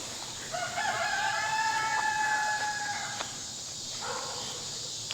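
A rooster crows loudly and close by, a long drawn-out call, then a second shorter crow follows over a faint outdoor hiss.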